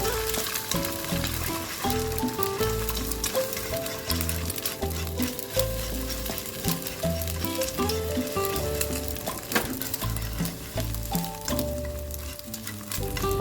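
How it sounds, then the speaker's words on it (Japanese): Egg sizzles loudly over high heat in a pan for a scrambled-egg sandwich, a continuous crackling fry with spatula scrapes, set against steady tonal background music throughout. "火力は強めでさっと焼き上げます"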